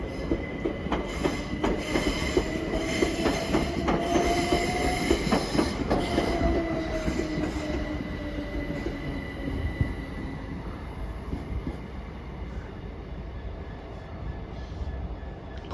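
A Southern class 377 passenger electric train passes through Watford Junction, with steady rumbling wheels, clicking rail joints and drawn-out metallic wheel squeals and whines, moderately close and continuous, with no talking.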